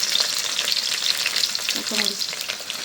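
Chickpeas frying in hot oil with onion and green chili, a loud, steady sizzle with occasional stirring scrapes, up close and without talk.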